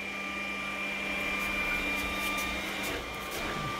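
An iRobot Roomba S9 robot vacuum runs on a floor with clothes on it, giving a steady motor whine and hum with a faint tonal edge, close and continuous, with no talking.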